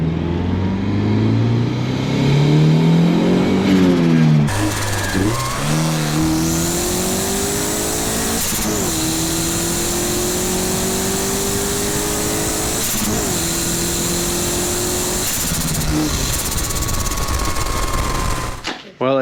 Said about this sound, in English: Well, after any modification, you gotta take a test drive.